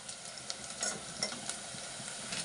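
Onions frying in oil in a pot, a steady soft sizzle with faint crackles and a few brief stirring scrapes, close and continuous with no talking.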